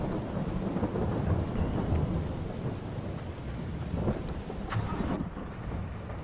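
Heavy rain in the video game Farming Simulator 22, a loud continuous downpour with a deep rumbling undertone like thunder or an idling vehicle, steady throughout.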